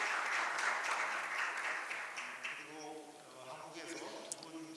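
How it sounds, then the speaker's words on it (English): Audience applause at an international IP court conference session, a steady patter of clapping that gradually thins and fades while a voice begins speaking faintly over the tail end. "Please welcome her with a big round of applause."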